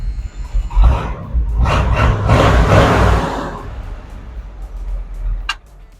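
An old vehicle nicknamed 'Ol Green, freshly fitted with new parts including a clutch, fires up with a loud, rough roar that settles into a steady idle, then fades and quiets, ending with a brief sharp click.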